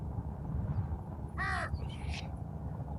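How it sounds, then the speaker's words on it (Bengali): A crow gives one loud, harsh caw over a village wetland, followed by a fainter second call. A low outdoor rumble runs underneath, and the calls are otherwise isolated. "মানে এরকম একটা সিচুয়েশন হয়েছে যে মানে সারা বিলের মধ্যে শুধু কাক আর কাক"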